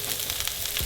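Bell peppers sizzle loudly in a very hot oiled pan during a stir fry, a dense continuous crackling hiss up close.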